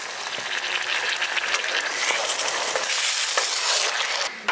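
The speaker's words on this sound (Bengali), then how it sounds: "এবার এতে জল দিয়ে দিচ্ছি।" Pointed gourd sizzling loudly in a pan as water is poured in, a dense steady hiss of frying with scattered crackles throughout, close and continuous.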